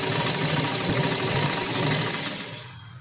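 A sewing machine runs a straight line of stitching through a blouse front neckline, giving a steady close mechanical whir and rapid needle chatter that slows and fades at the end.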